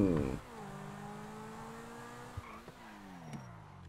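In GTA 5, a vehicle appears with a brief loud burst, then its engine hums steadily with a rising and falling pitch, and a few soft knocks follow.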